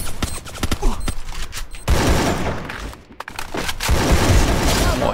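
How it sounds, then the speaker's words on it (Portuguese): A grenade explodes in a mobile shooter game running on a PC emulator: heavy booming blasts and crackling gunfire-like bursts, loud and dense, with a short lull between the blasts. "Ó, quiser jogar a granada"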